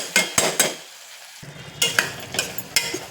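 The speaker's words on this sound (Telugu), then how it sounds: "ఇప్పుడు మనం కడిగి క్లీన్ చేసి పెట్టుకున్న బోటిని ఇందులో వేసేద్దాం వేసి రెండు కలిపి ఇలాగ వేయించుకోవడమే" Mutton boti (tripe) stirred and fried with onions and ginger in a pan, with several distinct scraping stir strokes over a low sizzle and a brief quiet pause in the middle.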